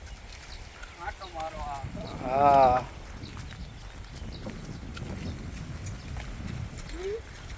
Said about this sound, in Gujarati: બે ઘોડાને બહાર કાઢ્યા છે.